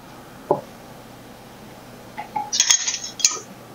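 Metal bands being screwed finger tight onto pint canning jars of Mexican corn, a single light clink followed by a short cluster of metallic scraping and clinking, close and fairly faint.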